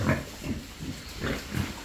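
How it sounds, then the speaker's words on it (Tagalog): A black Berkshire-cross breeding boar grunts repeatedly in short, low, rhythmic bursts, close by in a farm pen. "Ito yung dati kong bulugan, kulay itim."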